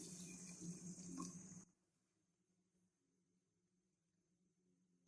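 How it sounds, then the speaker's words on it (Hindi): About half a litre of water is poured into a pot of chicken kurma gravy, a steady splashing rush lasting under two seconds before stopping abruptly into near silence. "आधा लीटर हम इसमें पानी ऐड करेंगे।"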